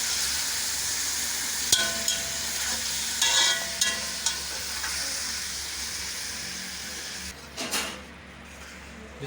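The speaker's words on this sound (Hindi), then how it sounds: "अब इसे थोड़ी देर के लिए भून लेंगे" A kilo of beef for korma sears in a pan with a dense, steady sizzle, broken by several sharp clinks and scrapes of stirring before it fades quieter near the end.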